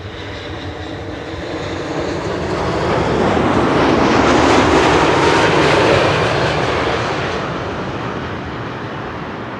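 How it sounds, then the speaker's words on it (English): A KLM Boeing 787-10 Dreamliner, registration PH-BKO, arrives over Schiphol's Kaagbaan runway 06. Its engine roar swells to a loud peak as it passes close overhead, then fades away. "This is KLM Flight 644, arriving from New York, JFK, 787-10 Dreamliner"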